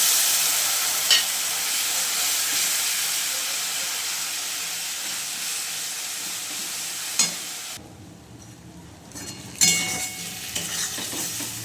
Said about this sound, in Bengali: এটাকে আমি ভালো করে কষিয়ে নেব।